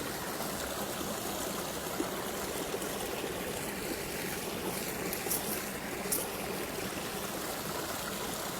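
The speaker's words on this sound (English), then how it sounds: "And then I'm going to do some drops of these other waters." Sacred waters are poured into a blue glass bottle, a steady, continuous trickling hiss that runs evenly throughout at moderate, close level with no talking.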